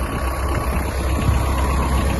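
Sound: Kubota X-20 mini tractor engine idling before shutdown

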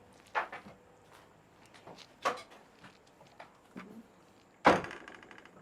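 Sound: door banging in an abandoned nun's hut

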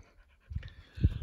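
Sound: tired puppy panting

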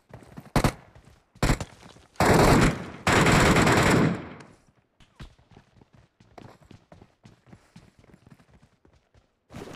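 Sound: gunfire from SCAR-L rifle in PUBG Metro Royale video game

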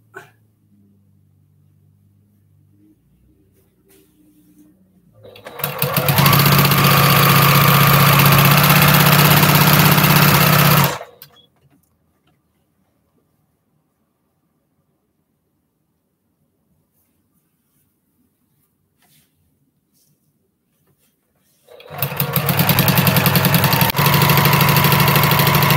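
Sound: sewing machine with walking foot sewing quilt top

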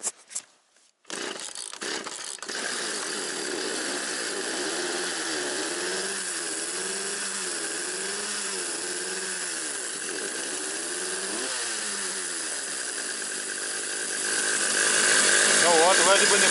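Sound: cold chainsaw starting and sawing firewood

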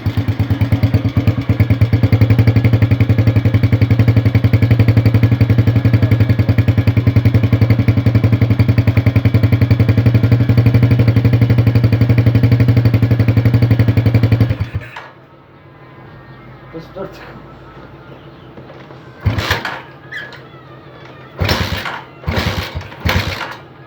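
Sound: assembled motorcycle engine running

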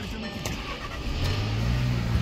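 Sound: car engine starting with the key

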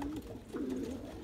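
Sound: pigeons cooing

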